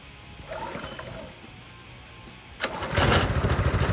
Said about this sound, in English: now it should fire back up. Might take it a couple pulls, get gas back up in there.